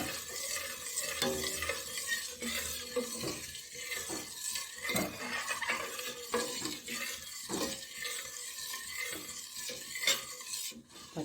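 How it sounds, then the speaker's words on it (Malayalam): Food is stirred in a pan over the heat: a utensil scrapes and clinks against the pan again and again over a soft sizzle, close by, with no talking. "ഇളക്കി കൊടുത്തോടെ ഇരിക്കണം"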